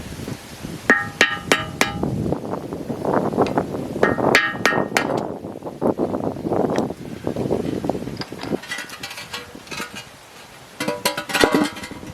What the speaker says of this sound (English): let's go ahead and drive that out with got a screwdriver handy